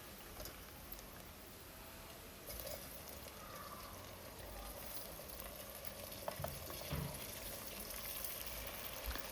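Chopped tomatoes fry in a pan over sautéed onion for mushroom biryani: a quiet, continuous sizzle with occasional scraping stirs and light clinks, fairly faint and steady throughout.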